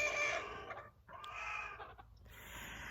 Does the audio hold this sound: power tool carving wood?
no